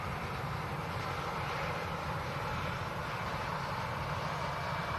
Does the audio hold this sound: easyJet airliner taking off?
yes